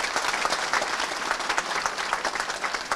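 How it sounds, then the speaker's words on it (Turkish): Steady, dense applause from a crowd at a protest gathering in Bursa against a cyanide gold mine, even clapping throughout at moderate level. "O yüzden de ben sizleri alkışlıyorum."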